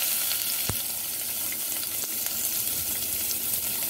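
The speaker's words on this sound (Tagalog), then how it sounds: "Mag-caramelize tayo ng sibuyas." Onions fry in a small amount of oil for corned beef and beans, a continuous close, even sizzle with a couple of brief clicks from the spoon and pan.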